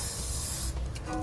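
Aerosol spray can hissing onto a vehicle's exhaust hanger during a Curt trailer hitch receiver install on a 2017 vehicle, one loud continuous close burst that cuts off partway, followed by quieter faint sounds.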